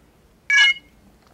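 A battery charging phone case gives a single short electronic beep when switched on, clear and close against near silence.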